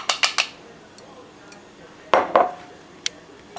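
Utensil clinking against a pan or bowl while mixing onions and sauce, a few quick sharp metallic taps in clusters with quiet gaps between, close by.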